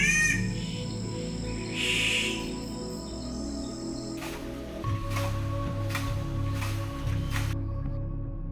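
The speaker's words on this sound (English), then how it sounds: "I'm in a deep dark rainforest surrounded by amazing birds like spotted catbird, grey-headed robin, pale-yellow robin" Birds call through a dense far north Queensland rainforest, with spotted catbird and robins among them, a steady insect drone underneath and several sharp tonal calls and whistles rising over it across the stretch.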